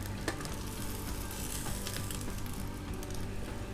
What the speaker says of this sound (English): Cook our beans one last time, give them a stir.